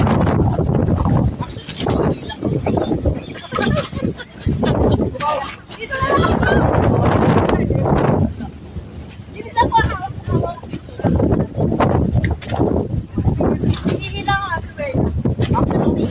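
Strong wind at El Nido buffets the microphone in heavy gusts, a loud rumbling roar that rises and falls while people talk over it.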